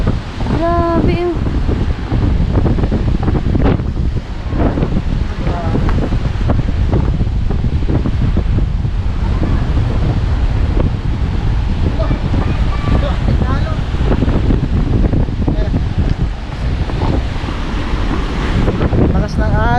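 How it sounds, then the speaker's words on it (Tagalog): Strong sea waves roll and crash under loud, buffeting wind across the microphone, a continuous roaring surge with voices talking throughout. "Malakas palang alon dito, no?"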